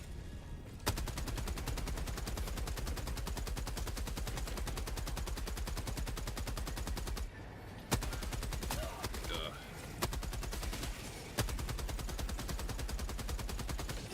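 Sustained automatic gunfire in a shooter video game, a continuous fast rattle of shots running for over ten seconds with brief pauses between bursts, loud and close.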